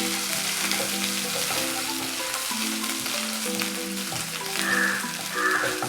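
Crushed fresh garlic and ginger sautéing in a pan for Mughlai shahi paneer give off a steady, dense sizzle that runs the whole time with no talking, while soft tonal music plays underneath.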